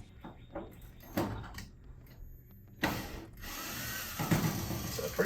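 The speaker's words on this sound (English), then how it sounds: "I'm going to go ahead and use my drill here. Got my Ryobi drill ready to go." A Ryobi power drill backs screws out of a garage door window frame in a few short, separate bursts of whirring, with softer handling clicks and rattles between them, close by and with no talk.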